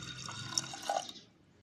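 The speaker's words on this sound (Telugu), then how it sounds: "వాటర్ పోస్తున్నా అండి" Water pours onto toor dal for cooking in a brief, quiet stream of liquid splashing that fades out within a moment.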